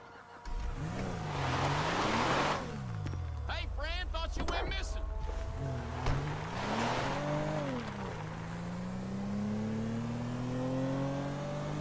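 Car driven in GTA V, an engine revving up and down through gear changes with a brief rattling burst midway, while characters talk over the driving.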